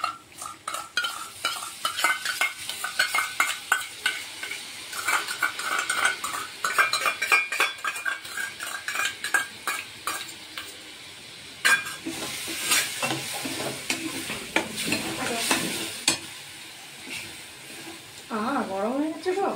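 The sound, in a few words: stirring chana masala with butter and yogurt in kadai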